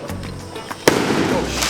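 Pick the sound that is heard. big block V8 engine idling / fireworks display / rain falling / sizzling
fireworks display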